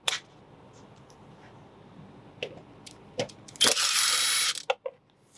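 A ratchet on an extension bar loosens the 10 mm air box bolts on a Toyota Prius: scattered mechanical clicks, then a loud continuous ratcheting burst near the end, up close, with no talking.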